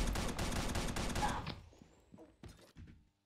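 Plasma rifle from the shooter game Pixel Gun 3D firing a rapid burst of loud shots that stops abruptly, followed by a few scattered thuds and clicks.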